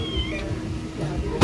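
A cat meows near food at lunchtime during a resort outing: a short, high, tonal cry early on, with people talking nearby.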